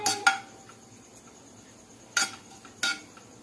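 Poppy seeds roast in a pan while a spoon stirs them, giving three sharp metallic scrapes and clinks separated by quiet gaps with a faint sizzle underneath.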